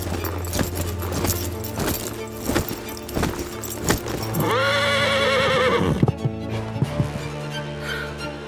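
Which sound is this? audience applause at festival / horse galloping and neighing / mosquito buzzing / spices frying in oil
horse galloping and neighing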